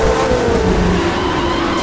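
A Ferrari's engine in the video game The Crew 2 drones loudly and steadily with a slowly falling pitch, heard alone without talk.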